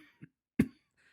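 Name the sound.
cough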